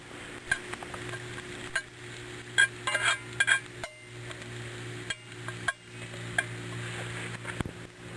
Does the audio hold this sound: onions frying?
yes